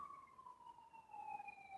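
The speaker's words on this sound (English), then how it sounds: "Y'all hear those sirens?" Emergency siren wailing in the distance, a steady faint tone gliding slowly downward, heard alone without talk.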